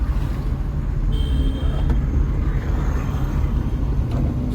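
Car engine running in third gear with the accelerator held down, a steady loud low rumble that drones on without break from start to end.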